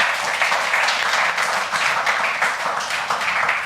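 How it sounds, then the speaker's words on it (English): Audience at an English-speaking panel discussion claps warmly, a full, steady burst of many hands with slight rhythmic swells. "Clap for her, everybody."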